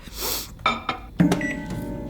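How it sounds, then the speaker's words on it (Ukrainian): A kitchen microwave oven, with a short whoosh and clicks followed by a couple of quick electronic beeps and a low running hum, all close and brief. "А, мікрохвильовка, господи."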